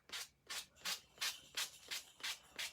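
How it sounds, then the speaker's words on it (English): Seven or eight soft, evenly spaced rubbing strokes, a sanding sponge scraping back and forth against a paper edge, quiet and close. "take a sanding sponge"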